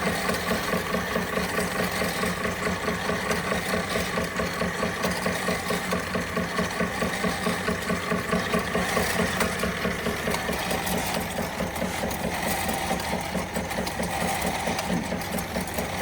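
A rare 1920s Empire B42 toy steam engine runs steadily close by, a fast, even mechanical chuffing and clattering rhythm that keeps going without pause, with no talk.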